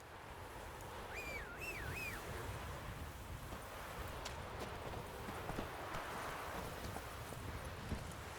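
A horse gallops in The Witcher 3 with a quiet, steady clip-clop of hooves over soft ambient wind. A brief whinny-like tone cuts in near the start.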